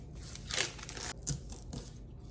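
Packaged chicken sausages being unwrapped by hand, with brief crinkling and tearing bursts of plastic wrap in a kitchen, close and moderately loud, no talking.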